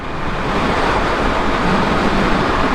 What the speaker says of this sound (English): You can see the wind's still pretty strong, kicking up a bit of swell there